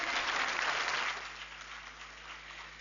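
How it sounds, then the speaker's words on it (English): Parents in an audience clap for young children at a play group's annual day event, a dense burst of applause that thins and fades over the last couple of seconds. "can we have a round of applause for our children before we begin the event?"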